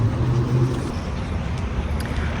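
Inside a Tesla car driving near Bellevue, Washington, a steady low road rumble and tyre noise hum continuously, fairly loud and even throughout.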